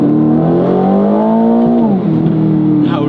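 A 2025 Aston Martin Vantage accelerates hard, its loud engine note climbing steadily in pitch. It eases briefly as the car shifts gear and then builds again, heard close from inside the car with no talking.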